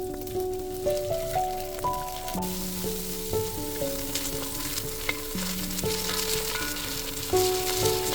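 Spices tossed in hot oil in a wok while braising beef ribs, a steady crackling sizzle with stirring scrapes under a melodic music bed, close and continuous at moderate loudness.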